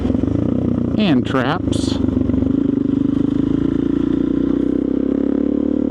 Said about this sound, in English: So I better stop riding my motorcycle for a minute and go get that done